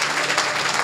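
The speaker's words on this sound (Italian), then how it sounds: "si fa l'applauso quando c'è così" A brief burst of crowd applause at a political party rally, dense overlapping clapping from many people filling the whole moment.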